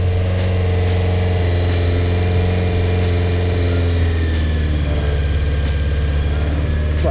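A Honda CBR600F4 motorcycle engine idles after a carburetor rebuild, a loud, steady, close-up rumble with a faint rhythmic pulse and no talking.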